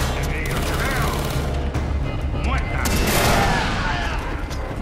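Dense, continuous bursts of gunfire and booming explosions from the game Far Cry 3 as a ship is destroyed with rockets, loud and chaotic throughout.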